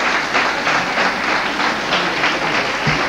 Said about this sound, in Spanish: Por eso os pido otro fuerte aplauso